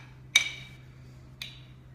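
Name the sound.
spoon stirring a drink of juice with glucomannan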